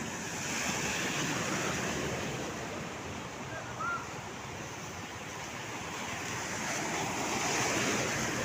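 Floodwater after heavy rain runs down a Kolkata city street like a river, a steady broad rushing wash with wind buffeting the microphone, continuous and fairly loud throughout, with no clear talk.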